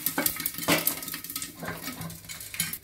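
White corn popcorn popping in a pressure cooker, with irregular sharp pops and clinks that rattle against the metal pot, the bursts scattered across a steady background hiss and no talking.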